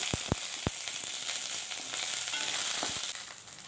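Onion and curry leaves sauté in oil and butter after mustard seeds, giving a steady bright sizzle with a few sharp crackles and pops near the start, close and alone.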